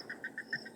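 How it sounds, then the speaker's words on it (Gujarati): Frogs croak at night outdoors in a steady series of short, chirpy calls repeating at a regular pace over faint background hiss, with no voices. "દેડકાનો અવાજ આવે મિત્રો"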